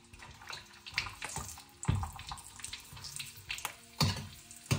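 Pork rind chicharon frying in hot oil gives a steady, close bubbling sizzle, with louder splashy surges every second or so as the pieces are stirred.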